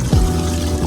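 Water pouring from a garden hose near a boat, a short, close, steady gushing stream with a brief rising burble at the start.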